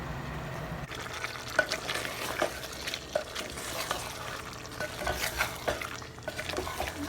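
Liver (kaleji) frying in a pan, a steady close sizzle with irregular scraping and stirring knocks of a spoon, no talk over it.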